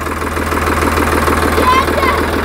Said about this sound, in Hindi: यह ट्रैक्टर की आवाज़ है, रेस दिए